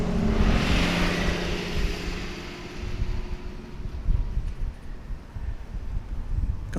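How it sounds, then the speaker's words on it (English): An Embraer 175 airliner arrives at DFW Airport, a broad roar of jet noise mixed with wind that swells early and lingers steadily at a moderate distance, with no talk. "Here comes an Embraer 175."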